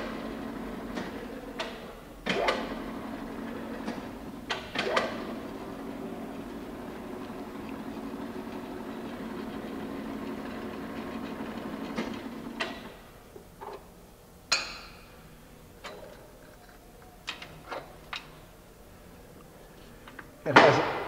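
A New Dimension bending roll with 6-inch rolls and 60-inch width runs at 16 feet per minute, a steady mechanical hum that stops and restarts as it switches direction, with sharp clunks and knocks in between and no talk.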